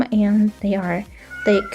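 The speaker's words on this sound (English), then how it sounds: "So sorry for the cats outside the home" Cats meow outside a home, in front of the door: three drawn-out, close, loud meows separated by short pauses, with a person talking over and between them.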